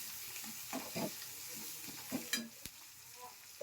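Quiet sizzling of chopped green chillies frying in oil with garlic and curry leaves, with scattered soft stirring clicks and taps close by.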